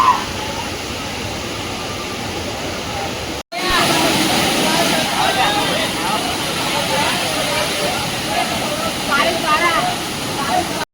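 Clean drinking water gushes steadily out of the ground, a continuous loud rushing splash that cuts out briefly near the start, then resumes with faint voices in the background.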